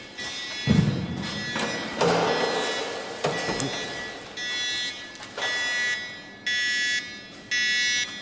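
A radiation dosimeter beeping inside an abandoned village near Chernobyl, with high electronic tones sounding in repeated bursts that grow more regular toward the end, mixed with thumps and handling noise.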